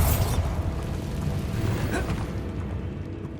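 Bombarda blast spell in the Hogwarts Legacy video game: a deep explosive boom opens, then a long rolling rumble of debris and low thunder slowly fades over a few seconds, no voices.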